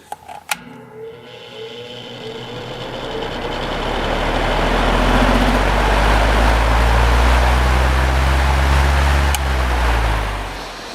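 Patton 18-inch electric fan switched up to high speed, a loud steady whooshing rush of air with low motor rumble that swells and holds, close to the microphone.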